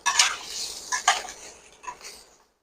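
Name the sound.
soybeans being added to a pan for chowmein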